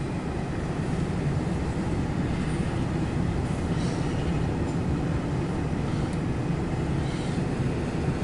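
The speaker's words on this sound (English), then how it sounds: "this train is on track 2," A CSX intermodal freight train rolls past on the main track, a loud continuous rumble and rattle of railcars on rails that holds steady from start to finish with no talk.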